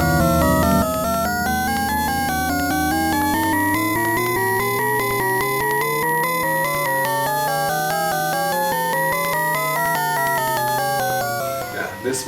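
Synthesized swarm-driven notes from agents that must move one space each step, a continuous bright, warbling stream of stepping tones gliding up and down over a low drone, loud and unbroken for about twelve seconds.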